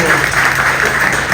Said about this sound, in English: Round of applause for the Long Beach Firefighters Association